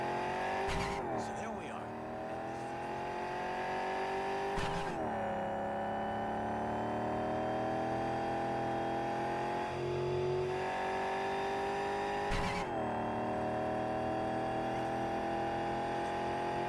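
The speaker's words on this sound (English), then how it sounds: "Driving is so much better." A car in the video game Cyberpunk 2077 drives and revs steadily, its engine tone rising and falling with a few sharp shifts, while someone talks over it.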